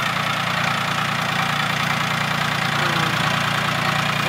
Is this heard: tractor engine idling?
yes